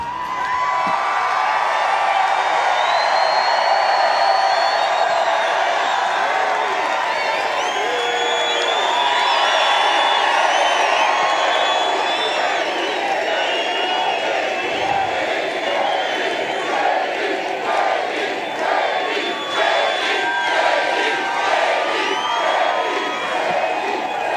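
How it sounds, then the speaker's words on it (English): A large outdoor crowd at a Trump rally in Butler, Pennsylvania roars and cheers continuously for about twenty-four seconds, with whoops and shouts swelling and pulsing, loud and close. "What an amazing crowd."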